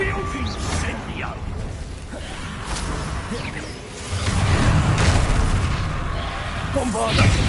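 Spell blasts of the Bombarda explosion charm in Hogwarts Legacy, booming whooshes and rumbling impacts mixed with game sound effects, with character voices speaking over the action.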